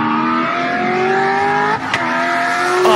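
A car engine revs hard and steadily climbs in pitch, then briefly dips at each crisp gear shift before pulling up again, loud and close throughout.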